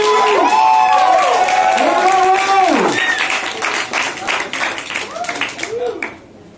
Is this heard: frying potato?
no